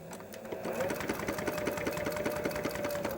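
Industrial sewing machine stitching leather, a close, moderately quiet rhythmic clatter of the needle working a few back stitches in quick regular beats.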